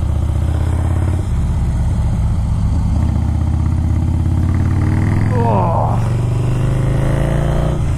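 A Harley-Davidson motorcycle engine drones steadily and loudly under a rider on the open road, with a rising pitch as it opens up near the end; a voice speaks briefly over it.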